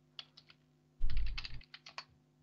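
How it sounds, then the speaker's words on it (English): Keys on a computer keyboard are struck in a short burst of quiet, close clicks, a few scattered taps around a denser flurry in the middle. "Let's type it here."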